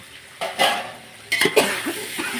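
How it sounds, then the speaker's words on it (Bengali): Boiled soybeans being stirred and fried in a pan, with a spoon scraping and clinking against the metal in a few short bursts over a faint background sizzle. "সয়াবিনগুলো ভালো করে নাড়াচাড়া করে ভালো করে ফ্রাই করে নিতে হবে।"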